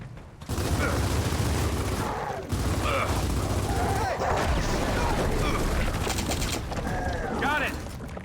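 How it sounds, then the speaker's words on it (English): In Gears of War 4 combat, heavy gunfire and mechanical clatter roll on continuously, with a frag grenade among the blasts and shouting voices over the din. "Throwing frag!"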